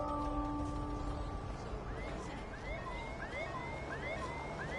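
Police car sirens in the video game Detroit: Become Human, several rising and falling wails overlapping at a moderate distance over a low background hum, with no talk.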